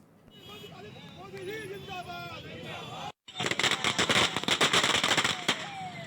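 Firecrackers go off at a BJP celebration in Deoria, where sweets are handed out. A rapid, dense crackle of bangs bursts in after a brief pause, loud and close. Earlier, voices and a distant horn are heard.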